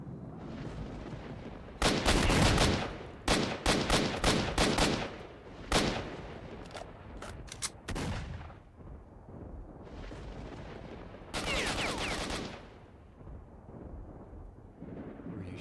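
Gunfire in the shooter game STALKER: Shadow of Chernobyl during a fight with bandits: loud, sharp bursts of rifle shots and rapid volleys that crack and echo, alternating with brief lulls, with no voices over them.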